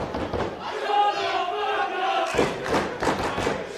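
Wrestling crowd at an amateur wrestling show chanting loudly in unison, rhythmic shouted syllables with a sustained tonal chant early, then choppier bursts of crowd yelling and thuds.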